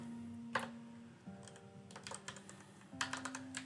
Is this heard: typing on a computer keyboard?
yes